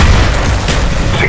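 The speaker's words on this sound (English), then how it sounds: "Throwing grenade!" Grenade explosion in Call of Duty: Black Ops on the Villa map, a short loud booming blast with dense low rumble filling the whole moment, no talk.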